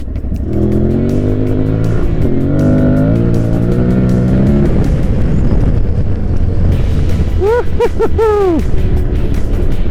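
A motorcycle engine drones loudly while riding along a gravel road, its pitch rising and falling with a rough, continuous rumble and a brief rising rev near the end.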